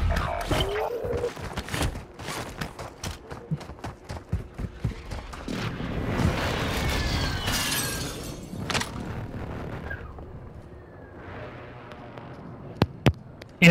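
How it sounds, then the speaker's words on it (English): Airstrike in Call of Duty: Modern Warfare II, a dense run of sharp blasts and gunfire cracks that gives way to a long roaring rumble of explosions, then scattered loud bangs near the end. "Hostile airstrike incoming."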